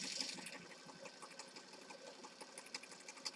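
A sewing machine stitches through junk journal papers, a close, quiet, rapid mechanical whirring with irregular pulses as the papers are moved and turned.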